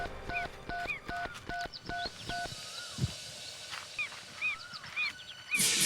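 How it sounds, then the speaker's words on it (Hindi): Mobile phone keypad tones as a number is dialed, a quick series of evenly spaced beeps, followed by faint electronic chirps and background noise; no speech. "मैं तन्वी का नंबर फिर से ट्राई करता हूँ।"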